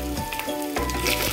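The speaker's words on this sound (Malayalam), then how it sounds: "അതിൻ്റെ കൂടെ കൊത്തി അരിഞ്ഞ തേങ്ങയും കൂടി ഇട്ടിട്ട് ഒന്ന് വഴഞ്ഞു വരട്ടെ" Onion, garlic, ginger and green chili frying in a pan for a Kerala-style prawn masala, with chopped coconut going in; a steady, close hiss and sizzle with faint stirring.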